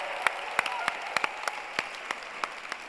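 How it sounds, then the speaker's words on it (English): Theatre audience applauding at a Broadway season announcement. A loose series of distinct claps rings out over a steady crowd wash at moderate volume. "How about one more round of applause for Ellen and Anthony?"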